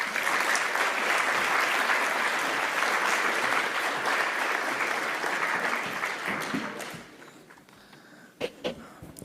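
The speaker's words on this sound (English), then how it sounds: "Let's give him a big round of applause." Audience applause fills a United Nations hall in Geneva during a World Meditation Day event, a dense sustained clatter of many hands that thins and fades toward the end, leaving a few scattered claps.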